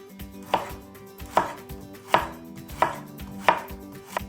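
Knife chopping through carrots for a stir fry on a cutting board, six crisp evenly spaced cuts, close and clear with no talking.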